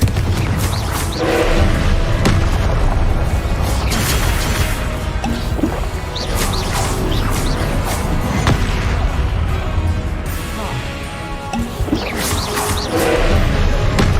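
Confringo fire spell explosions in Hogwarts Legacy, loud repeated blasts and crashes that follow one another over a continuous roar of combat noise.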